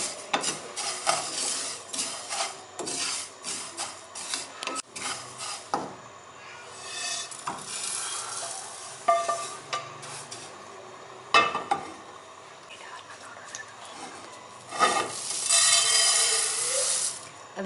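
Cumin seeds dry roasting in a frying pan, with light sizzling, clinks of a spoon stirring against the metal pan and scattered kitchen clatter at close range.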